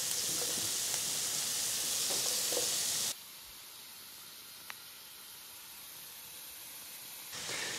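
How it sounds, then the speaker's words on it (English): Meat and vegetables browning in a pan, a steady sizzling hiss that drops sharply partway through to a quieter simmer, with a brief tick, then rises again at the end. "The reason I am browning the meat as well as the vegetables is to enhance their flavor."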